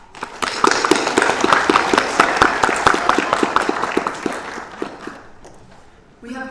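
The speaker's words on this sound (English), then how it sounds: "It deserves a huge round of applause" Audience at a closing ceremony claps loudly with sharp, distinct hand claps, and the applause gradually thins and fades toward the end, with a brief voice starting up at the close.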